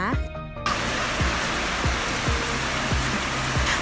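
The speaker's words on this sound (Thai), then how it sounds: "ฝนตก" Heavy rain pours steadily on an outdoor setting, a dense continuous hiss that starts abruptly after a brief quieter moment, with recurring low thumps underneath.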